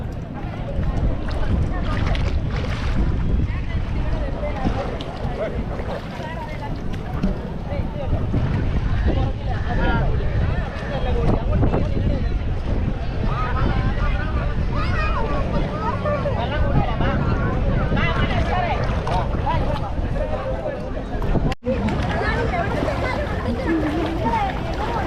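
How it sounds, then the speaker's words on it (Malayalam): A boat ride on a lake at Sambranikodi island, with steady wind and water noise running under continuous nearby conversation throughout. "വള്ളത്തെ യാത്രയാണ്."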